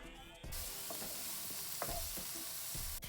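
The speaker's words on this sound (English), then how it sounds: "we'll saute our onions until they become translucent and become a little brown" Onions sautéing in a hot pan, a soft steady sizzle that starts abruptly, with a few scattered scrapes and taps of stirring, fairly quiet and close.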